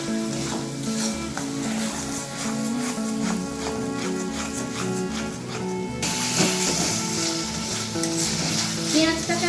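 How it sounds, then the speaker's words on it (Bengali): Onion paste frying slowly in a pan over a low gas flame for an egg korma, a steady close sizzle and hiss with stirring scrapes throughout, growing slightly brighter and louder partway through. "পেঁয়াজটাকে একটু হালকা করে ভেজে নেব।"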